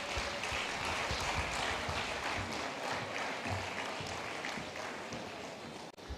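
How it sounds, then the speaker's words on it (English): A conference audience claps steadily throughout, dense and even, with a moderate level and slight room echo. The clapping fades a little near the end. "Ladies and gentlemen, a round of applause for Emir."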